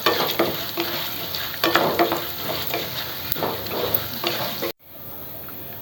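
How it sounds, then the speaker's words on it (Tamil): Chana dal, urad dal, cumin and coriander seeds sauté in oil, crackling and sizzling steadily up close with soft stirring scrapes, then cutting off abruptly to quiet near the end, with no speech. "இப்போ நல்லா சவுப்பாக வதக்கி எடுத்துக்கலாம்."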